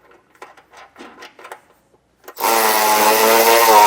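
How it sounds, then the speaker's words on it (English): A bolt and nut on a Blue Ox base plate on a 2015 Chevrolet Spark are tightened with a loud, steady whirring tool that kicks in abruptly after a few quiet handling clicks. "Just slide that bolt in, then put your nut on, and then we can tighten it down."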